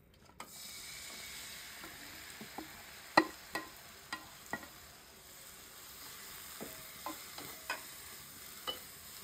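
Cauliflower and flat beans stir-fried in a dry pan without oil, giving a soft steady sizzle with a scattering of sharp spatula clicks and scrapes, moderately near and fairly quiet throughout.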